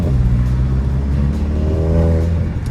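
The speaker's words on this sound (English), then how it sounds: "that little engine just purrs" Turbocharged four-door sedan engine revving up with a steady, close, loud rumble and rising whirring tone, no talking over it.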